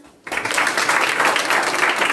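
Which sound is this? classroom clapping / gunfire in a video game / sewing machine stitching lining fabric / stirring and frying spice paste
classroom clapping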